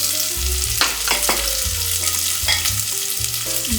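Garlic and onion stir-frying in a pan, with a steady close sizzle and crackle running the whole time alongside a few scraping strokes of stirring and a soft tonal background.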